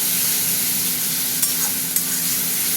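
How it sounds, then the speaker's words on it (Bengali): Tomato and spices fry in oil in a pan, with a continuous hiss of sizzling and two light clicks of a utensil, heard close with no voices. "ভাজা ভাজা হতে থাক। তেল ছেড়ে দিয়েছে ভাজার মধ্যে থেকে।"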